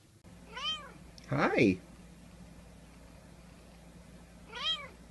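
A cat meows three times, a short chirp, a louder drawn-out meow and a final short meow, close by, with a person briefly greeting it.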